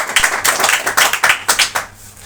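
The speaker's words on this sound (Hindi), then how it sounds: "वचन के लिए जोर से ताली बजाएंगे।" A congregation at a Hindi Bible sermon clapping loudly together in a quick, steady rhythm of about a dozen sharp claps that fade toward the end.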